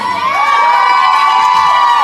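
Poetry slam audience loudly cheering and whooping for a poet after a high score, a close, continuous burst of shouting voices and applause.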